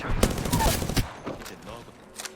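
A grenade launch and gunfire in a video game: a burst of sharp, close shots in quick succession, then fainter scattered reports trailing off.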